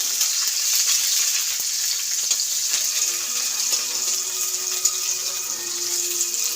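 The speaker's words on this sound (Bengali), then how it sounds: "দেখতেই পাচ্ছেন হালকা ভাজা হচ্ছে।" Onion fritters shallow-frying in hot cooking oil, a steady close crackling sizzle with fine bubbling that holds evenly throughout, no voices.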